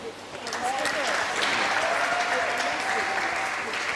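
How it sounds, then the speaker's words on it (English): Audience applause for a presenter named Kara at a live event, a broad steady wash of many hands clapping that swells after a quiet start and holds evenly throughout, with a faint voice briefly audible underneath. "Please clap for Kara"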